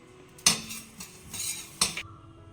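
Toor dal and lentils roast in a hot pan for homemade spice powder, heard as two loud scraping bursts of a metal utensil against the pan over a faint background hiss.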